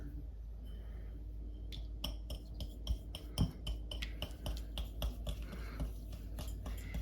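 Two eggs whisked with three tablespoons of sugar in a bowl give a quick, uneven run of close metallic clinks and taps against the bowl, with no talking over it.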